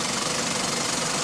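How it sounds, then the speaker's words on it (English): Older style Meccano model engine, the Mech 1, running with a steady buzzing, rapid knocking rhythm, close and continuous with no talk over it. "This is the older style Mamard made Meccano engine, commonly known as the Mech 1"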